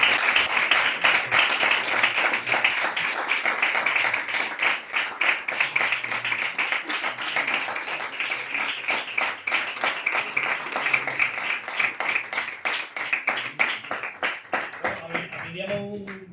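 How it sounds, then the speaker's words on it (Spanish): Conference audience applauding at the close of a talk, a dense steady patter of many hands clapping for about fifteen seconds before thinning out, with a voice briefly speaking at the end. "Pero primero te vamos a aplaudir con tu ni permiso."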